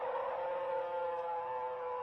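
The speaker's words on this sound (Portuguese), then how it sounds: "fazendo-o recuar e emitir um uivo de dor" A werewolf demon howling in pain, one long sustained wailing howl, steady and moderately loud, heard alone with no talk.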